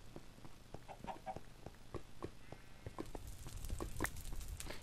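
Chickens clucking in Minecraft, with short repeated clucks and squawks scattered over a steady game ambience, moderately close and growing busier toward the end.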